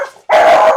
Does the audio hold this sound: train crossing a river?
no